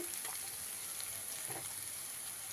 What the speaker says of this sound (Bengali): কাঁচা লঙ্কাটা দিয়ে অল্প একটুখানি ভেজে নেব